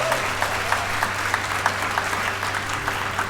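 Audience applause at a business training talk on recruiting, steady dense clapping filling the room for a few seconds, with a low hum underneath and no speech.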